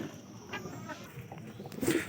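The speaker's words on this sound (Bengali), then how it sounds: "আয় আয় আয়, এই যে কবুতরগুলো" Pigeons coo softly at close range, a few low murmuring calls over a quiet background, with a faint human voice present.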